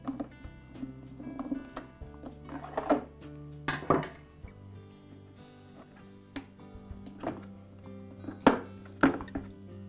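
Scattered metallic clinks and light thunks from work on a Porter Cable air compressor pump, as screws securing the top handle are taken out, sounding close and fairly quiet with irregular taps and rattles over ten seconds.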